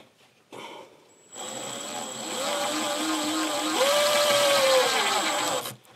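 A power screwdriver drives the screw of a hollow wall anchor into a wall, a whirring motor that rises in pitch and strains under load for about four seconds, close and loud, after a brief short burst.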